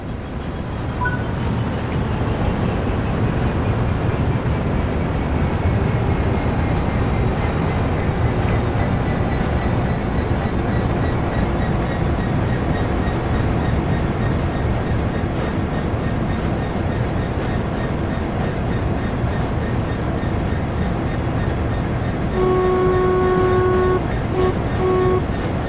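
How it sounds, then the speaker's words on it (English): Locomotive coasting with power off in Train Sim World 3, a loud steady rumble of wheels on rails with faint whining tones and a brief tonal sound near the end. "Reduce the power to 0 and allow the locomotive to coast."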